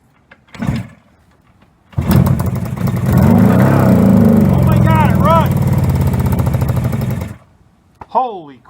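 A 1973 Kawasaki H1D motorcycle cranks, then roars to life and revs loudly for about five seconds before cutting off, close up, with a voice speaking briefly before and after.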